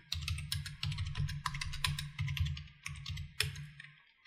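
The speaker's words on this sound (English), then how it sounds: "I'm just going to type these in manually" Steady bursts of computer keyboard typing as physics lab values are entered into a spreadsheet, close and clear, with irregular rapid key clicks and brief pauses, no talking.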